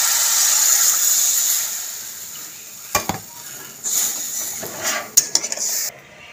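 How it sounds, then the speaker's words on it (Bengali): A steady loud sizzle of masala frying in oil in a pan fades as water goes in, followed by several sharp clinks of a spoon stirring against the pan. "এবার আমি পরিমাণ মতন জল দিয়ে দেবো।"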